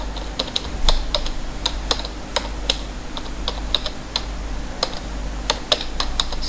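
Close computer keyboard typing while chart titles are entered, with a steady run of quick, crisp key clicks over a low electrical hum, and no talking.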